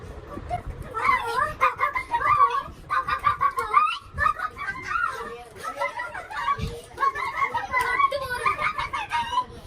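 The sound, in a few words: children imitating chicken sounds while dancing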